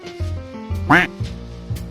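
A single short duck quack sound effect pops out between low-pitched, choppy background tones.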